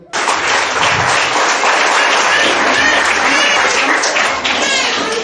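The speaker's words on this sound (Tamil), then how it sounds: "சோ அவங்கள நாங்க செலக்ட் பண்ணின அந்த ஸ்கூல் நிர்வாகத்துக்கும் நாங்க கைத்தட்டல கொடுப்போம்" An audience applauds a school's management with loud, dense, continuous clapping that holds steady throughout and then stops abruptly at the end.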